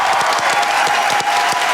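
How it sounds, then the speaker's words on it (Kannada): Studio audience on a Kannada television game show breaks into loud, sustained applause, a dense continuous wash of clapping with scattered individual claps standing out, steady throughout. "ಗುರು ಸರ್ಗೆ ಬರ್ಲೊಂದು ಜೋರ ಚಪ್ಪಾಳೆ"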